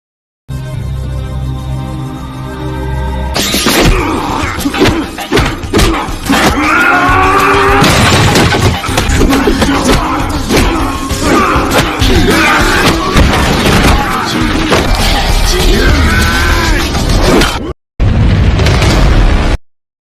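Film fistfight plays loud and dense, a barrage of punches, impacts and crashes layered over a dramatic score, broken by a brief gap near the end before the action resumes.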